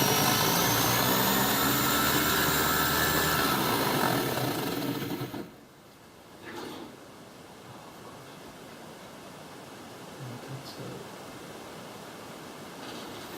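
Drag Bug engine with a 21 tooth pinion gear roars at full load on a dynamometer for about five seconds as a loud, steady high-pitched whine, then cuts off abruptly, leaving quiet background with a few faint knocks.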